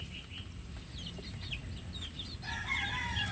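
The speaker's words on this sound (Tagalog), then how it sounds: "Minom sila kaagad Ang mga sisiw" Chicks and chickens in a backyard flock cluck and peep while drinking water right after deworming, with a rooster's crow rising near the end over a soft, continuous outdoor hum.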